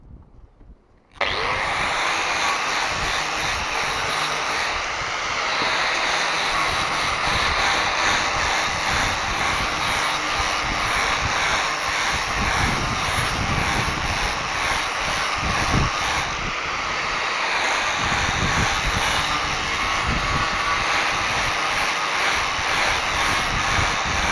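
Power sander smoothing a replacement wooden board for a bench repair, starting abruptly after a second of quiet and then whining loudly and steadily for over twenty seconds, close by and alone.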